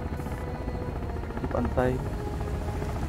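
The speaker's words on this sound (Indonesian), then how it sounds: "Sekarang kita naik helikopter alone." Helicopter flying in the survival game Sons of the Forest, a steady loud rotor and engine drone throughout with someone talking over it briefly.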